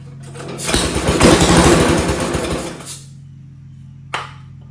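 A go-kart engine with a short tiny header and no air filter, fed brake cleaner with no throttle control, catches and roars loudly and raggedly for about two seconds, sputters out, then gives one sharp pop.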